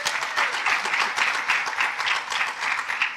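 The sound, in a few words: audience applause welcoming presenters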